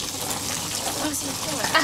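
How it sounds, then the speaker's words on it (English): Puppies Lucy and Ruby lap from a garden hose as water splashes and gushes steadily, close and fairly loud, with a faint voice under it. "Lucy and Ruby drinking from the hose."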